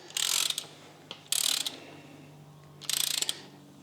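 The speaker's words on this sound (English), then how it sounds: "using my torque wrench, I'm going to 35 Newton meter here while holding the chain taut" Torque wrench ratcheting on a SRAM Transmission bike drivetrain component, tightened to 35 Nm: three bursts of rapid, close, loud clicking separated by short pauses, with no talk.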